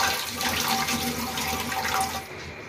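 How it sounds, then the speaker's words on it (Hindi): Tap water runs steadily into a kitchen sink while tomatoes and green chilies are washed, with faint splashing throughout before the flow stops near the end. "देखो, हम इसमें टमाटर डालेंगे और दो हरी मिर्च डालेंगे। इसको अच्छे से वॉश करेंगे।"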